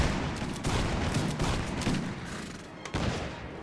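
Grenadiers fire a musket volley in Mount & Blade Warband, a dense ragged crackle of many overlapping shots rolling across the field, loud at first and thinning slightly, with a fresh sharp report near the end.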